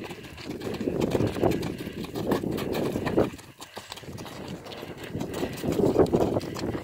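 A horse cantering, with rhythmic hoofbeats in regular bursts, fairly close and moderately loud against steady outdoor background noise, no one speaking.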